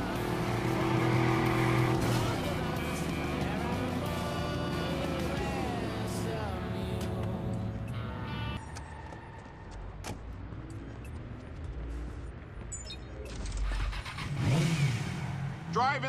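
A car in Watch Dogs is driven fast, its engine revving and sweeping in pitch at close range, then fading into rougher road noise and scattered knocks, with a voice talking over parts of it.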